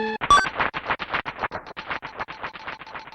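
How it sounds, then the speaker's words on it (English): Synthesized video game applause from the Mario Paint stage clear track, a brief beep then a dense, rapid, rhythmic crackle of pulsing clap-like bursts continuing steadily, lo-fi and alone. "that is the sound of applause that you hear"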